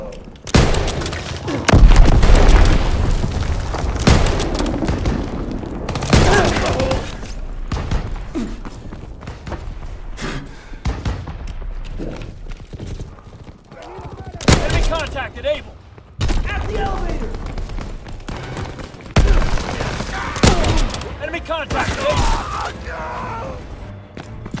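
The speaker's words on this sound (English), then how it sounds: "Enemy bomb incoming." A video game battle fills the air with heavy booming bomb blasts and dense bursts of gunfire, loud and close, surging and fading repeatedly, with voices calling out now and then.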